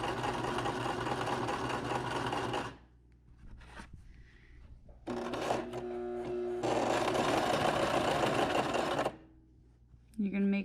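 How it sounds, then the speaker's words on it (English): A sewing machine runs in loud, steady bursts while stitching fabric for tie face masks, stopping briefly between runs as the seam is backstitched. "you're gonna do a couple stitches and then you're gonna back it up"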